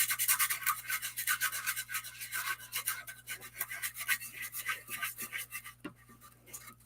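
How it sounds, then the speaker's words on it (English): Light, rapid scratchy rasping of a sanding tool rubbing back and forth over paper, close and quiet. "I'm going to hit this with my sanding tool"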